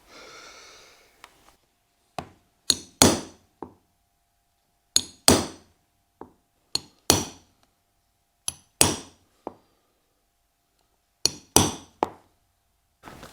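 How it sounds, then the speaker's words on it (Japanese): Sharp hammer-struck punch blows cutting holes in an olive full brogue leather shoe upper, landing alone in spaced pairs and clusters of two or three close, crisp knocks with short pauses between. "これに沿って穴を開けていきます。"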